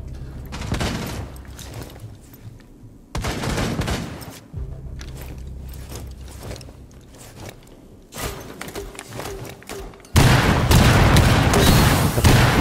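Rapid bursts of gunfire from the video game Rainbow Six Siege, arriving in loud clusters with short gaps and heavy thuds, with the densest and loudest volley at the end.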